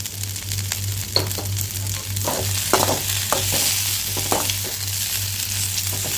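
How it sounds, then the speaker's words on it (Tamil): Green chillies and mint leaves sautéing in a pan for mint chutney, a steady close sizzle with irregular scraping strokes of a spoon and a low constant hum beneath, no talking. "இல்லைன்னா மிளகாய் புதினா தலை எல்லாமே கருகிரும் இந்த மாதிரி நல்லா வதக்கிக்கிங்க"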